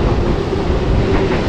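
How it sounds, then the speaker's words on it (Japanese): A Keihan electric train rolls past near Fushimi with a steady, loud, close rumble and wheel noise filling the short moment, no voices. "京阪電車がいっぱい来て幸せですね。"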